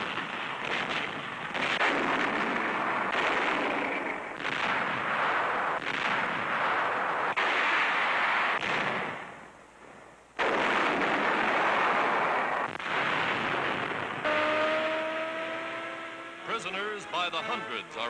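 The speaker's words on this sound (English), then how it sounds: "Allied tanks and guns take up the fight." Allied tanks and guns fire in the Tunisian battle toward Tunis and Bizerte, in a wartime newsreel: heavy booming shots and bursts repeat loudly, briefly pause, then resume, with engine-like drones near the end.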